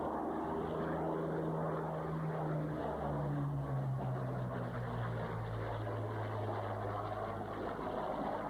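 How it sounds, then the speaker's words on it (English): An RAF Hawker Hurricane fighter, a rare surviving example, flies past at an air show, its piston engine and propeller giving a steady droning roar that shifts pitch as it passes, fairly distant and alone. "The RAF sends its Hurricane, one of 3 left flying in the world."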